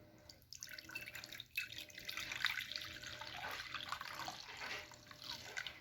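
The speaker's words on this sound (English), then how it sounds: "Did you enjoy that beef broth pouring ASMR action?" Beef broth pours into a bowl as a close, continuous splashing trickle that swells and wavers for several seconds. A faint knock sounds near the start.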